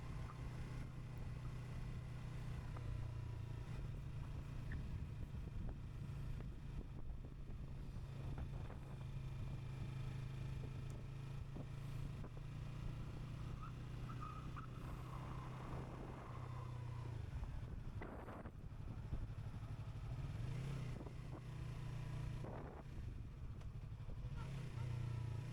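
Yamaha MT-03 motorcycle cruising on the road, engine droning steadily with fluctuating revs and brief dips suggesting gear shifts, heard continuously under wind noise at moderate level.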